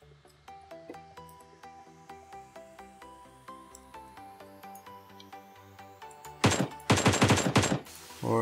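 Gunfire in PUBG Mobile, a quick loud volley of shots near the end that follows a long run of regular, quieter game clicks and tones.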